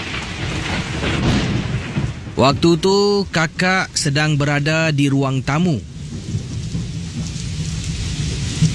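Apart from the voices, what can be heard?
heavy rain and thunderstorm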